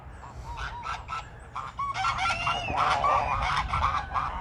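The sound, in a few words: smallholding geese honking noisily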